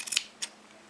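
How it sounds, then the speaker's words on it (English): Scissors snipping into a T-shirt along a line: a quick pair of crisp, close cuts followed by a single short snip, with near silence around them. "you're just gonna take your scissors and you're gonna do a little snip on the line"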